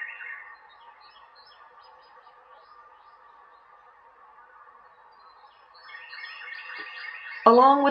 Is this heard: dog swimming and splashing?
no